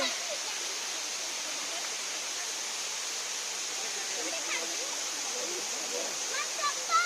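Waterfall water flowing at a forest picnic spot in Ekaguda, Malkangiri, Odisha, a steady broadband rush that stays constant and even throughout, with faint voices and small splashes on top.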